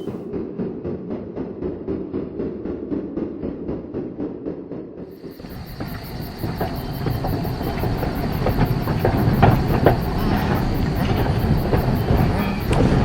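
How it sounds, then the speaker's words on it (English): An animated steam engine rolls along railway tracks, its rumbling chuff and rattle building steadily with rhythmic clatter and a high hiss layered on top. "Go pull the train."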